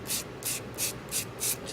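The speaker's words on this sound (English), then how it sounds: "I'm taking an old sheet of sandpaper, and I'm going to very" An old sheet of sandpaper is rubbed lightly over a paper card in about six quick, even strokes, each a soft scratchy swish close up.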